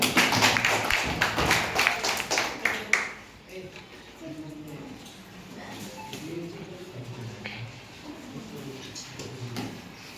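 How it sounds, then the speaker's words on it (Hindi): An audience claps for a teachers' group at a Shishu Vatika children's pala performance in Bandhugaon block, with dense, fairly loud applause for about three seconds that then fades into quieter talk and background sound. "सहयोग करिवे हमर शिक्षक मंडली अछंती तांका पे मन जोरसोर ताली हो।"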